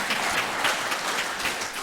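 A church congregation gives a round of applause during a service, a soft, steady patter of many hands clapping that stays fairly even and somewhat distant for the whole moment.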